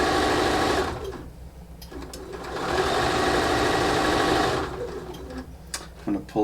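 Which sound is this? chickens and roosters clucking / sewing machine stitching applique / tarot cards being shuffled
sewing machine stitching applique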